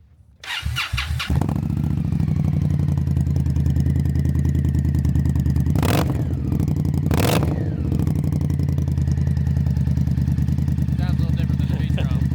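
A new cruiser motorcycle engine cranks and fires up after a brief pause, then settles into a loud, steady, throbbing idle close by, with a couple of short blips partway through.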